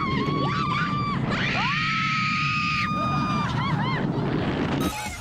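Loud, sustained screams from riders on a drop-style thrill ride, rising and holding in long shrill bursts with wind rushing past throughout, several voices overlapping, then cutting off abruptly near the end.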